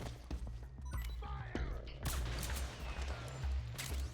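Gunshots and impacts in Metal Gear Solid 4, a scattered series of sharp cracks and thuds mixed with game effects, over a low pulsing musical backing.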